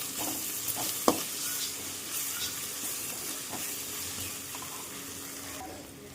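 Ginger and garlic sauté in a pan of softened onion for a chicken curry, giving a steady, moderately loud sizzle broken by one sharp spoon knock and a few faint scrapes of stirring.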